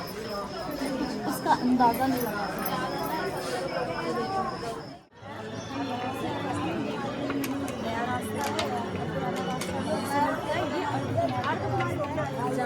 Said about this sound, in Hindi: भीड़ इतनी ज़्यादा है, भीड़ इतनी हुई है लोगों की